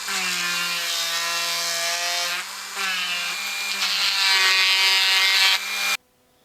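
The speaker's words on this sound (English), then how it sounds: "whatever grinding tool I can fit in the hole that I need to make, grinding it back" A high-pitched rotary grinding tool whines steadily while it grinds a hole into a four-part swimbait lure body, its pitch shifting slightly with pressure, then stops abruptly; close and loud, no talking.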